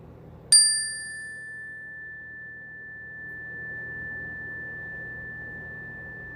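A meditation chime is struck once and rings out with a clear, sustained bright tone that slowly fades over several seconds against a quiet room hum.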